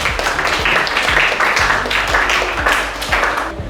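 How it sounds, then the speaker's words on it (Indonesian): A school class of students applauds together in a classroom, a lively patter of clapping with some distinct louder claps and low knocks or taps scattered through it. "Boleh tepuk tangan dulu semuanya."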